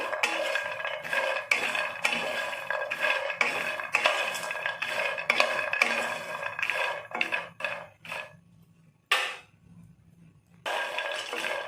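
Metal pan clatter with scraping and stirring, walnuts rattling and rolling against the metal as they roast in a steady busy rhythm, close by, with brief pauses near the end.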